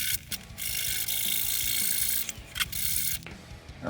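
Saw cutting a fret slot across a multiscale guitar fretboard at the nut end, a steady rasping, ratcheting series of close strokes that runs almost continuously with short pauses.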